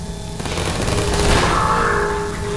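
Allied gunfire in Half-Life 2, a steady dense fusillade of overlapping shots that swells toward the middle and stays loud and continuous throughout, with no talk.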